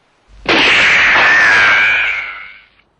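A single loud, sharp pistol shot with a long hissing, ringing tail that fades out over about two seconds, heard alone against silence.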